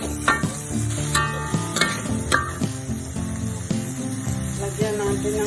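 Crushed lemongrass sizzles in a pan with bitter beans being stirred, a steady frying hiss with scraping utensil clinks, close and moderately loud.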